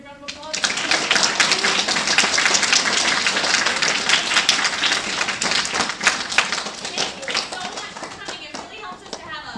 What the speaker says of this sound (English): Could we give them another big round of applause?